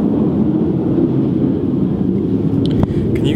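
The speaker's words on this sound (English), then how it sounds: "I live right next to an Air Force base, so there are always jets flying over." Military jets flying over near an Air Force base make a loud, steady low roar that fills the whole stretch, with a few brief rattles near the end.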